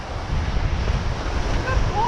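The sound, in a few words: ocean waves at the beach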